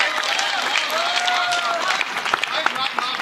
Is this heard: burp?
no